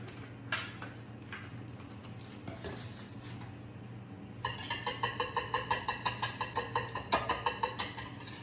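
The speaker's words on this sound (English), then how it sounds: "And then we're going to whisk this together." Cupcake batter ingredients for red velvet cupcakes whisked in a bowl, opening with faint scattered taps, then a fast, steady run of rhythmic metallic clicks from the whisk against the bowl, close and fairly quiet, with no talking.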